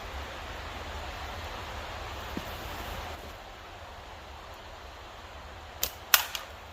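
After a stretch of faint hiss, a steel slingshot ball hits a can with a sharp pop, followed quickly by two more close metallic hits.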